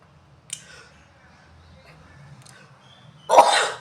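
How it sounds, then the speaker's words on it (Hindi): A single loud, close sneeze bursts out near the end, following a near-silent stretch that holds only a faint click and a few soft sounds. "आपको सुनना पड़ेगा ये छींक"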